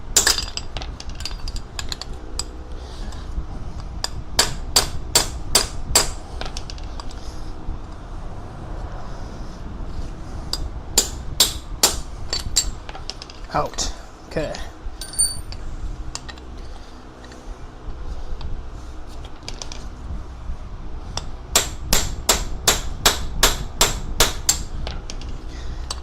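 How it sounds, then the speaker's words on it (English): A tiny ball peen hammer taps metal in a home garage, sharp rapid strikes in quick bursts separated by pauses, close and loud, with a brief spoken word or two between bursts. "Look at this tiny little hammer"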